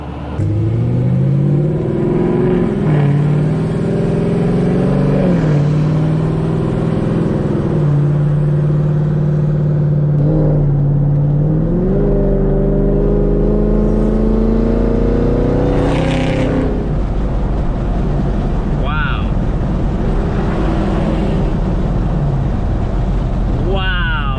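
A sports car engine, a Camaro or a GTR fitted with a roll cage, revs loudly and repeatedly with rising, snarling pitch and a deep rumble throughout, close by, while someone talks over it.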